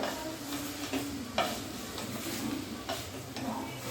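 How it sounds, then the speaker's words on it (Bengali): Pre-boiled chicken with onion, ginger and garlic stock stirred in a pan for an oil-free chicken stew, soft scraping strokes over a gentle sizzle, with a few light clinks of the spoon against the pan. "তো এটাকে জাস্ট আমি একটু নেড়ে নেব"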